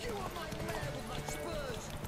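Horse hooves clip-clop in The Witcher 3 as the horse Roach moves, a quick rhythmic patter of steps running steadily under game sounds and a talking voice.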